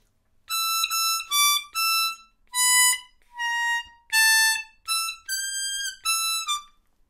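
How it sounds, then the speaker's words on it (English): Bright phrases on an A blues harmonica in its highest octave, about ten short blow and draw notes in a choppy riff with small gaps between them, close and clear with no talk. "you can use the higher notes, the highest octave of the harmonica"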